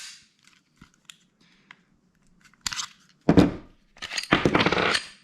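Metallic clicks and a sharp slide snap as a round is chambered in a Glock 10mm pistol fitted with a 12-round magazine, preceded by faint handling noises and followed by a rattling clack.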